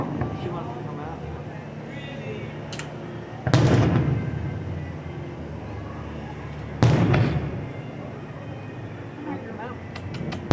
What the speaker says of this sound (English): Tater, you watching the fireworks?